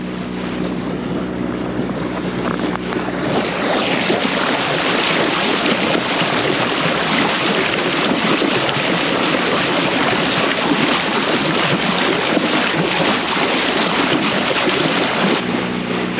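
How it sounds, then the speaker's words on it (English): A boat's bow slicing through open water, a steady broad wash of rushing spray and waves with wind buffeting the microphone, loud and continuous throughout. "get a shot just off the bow itself as it cuts through the water"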